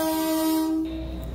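A train passing through Shifen, Taiwan, its loud, steady horn-like tones holding for most of a second before cutting off, leaving a low rumble of the moving cars close by.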